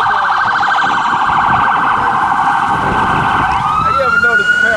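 An ambulance siren wails loud and close on a street, its steady warbling tone running throughout and sweeping upward near the end, with traffic rumble beneath.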